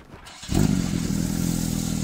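A Porsche 911 GT3 flat-six fires up: after a brief whir of the starter, the engine catches with a loud, sudden bark and settles into a steady, rumbling high idle, heard up close with no talking.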